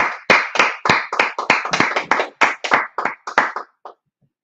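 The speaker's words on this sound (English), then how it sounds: "All right, let's clap it up." A group claps hands in a burst of about a dozen sharp, loud claps at a steady beat, close by, ending with a few scattered claps and no talk.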